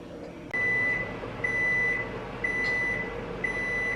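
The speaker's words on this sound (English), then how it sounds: "put it in the microwave for about 10 to 15 minutes" A steady electronic tone chimes in regular repeating beeps, four evenly spaced pulses over a low continuous hum, like an appliance running and signalling.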